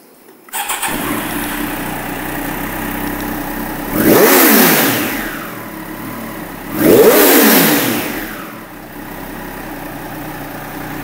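A Triumph Daytona 765 Moto2 limited edition motorcycle engine starts up close by, settles into a steady idle, then is revved sharply twice, each rev rising and falling before returning to idle.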